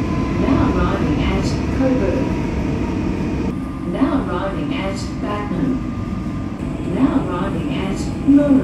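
A Comeng metro train on the Upfield line rumbles along steadily from inside the carriage, with rattles and soft clunks over the track and faint voices under the noise.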